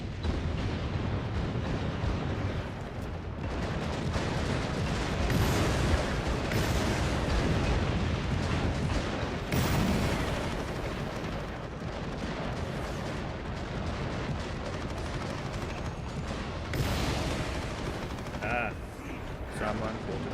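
Gunfire and explosions in Warhammer 40,000: Eternal Crusade, a dense, continuous barrage of shots and blasts with sniper rifle fire, heard alongside voices.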